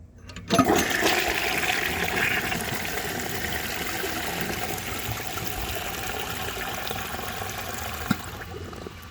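A 1950s Kohler low-tank toilet flushes with a sudden loud rush of water, a steady churning swirl and gurgle held for several seconds, then a brief clunk near the end as it begins to settle.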